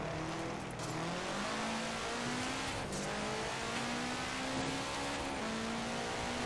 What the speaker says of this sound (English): this thing revs out to about 9K